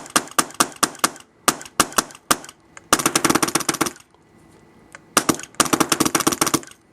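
An Invert Mini paintball marker fitted with a TechT spring kit fires in rapid bursts, sharp close snapping shots in quick strings with brief pauses between volleys, loud and alone.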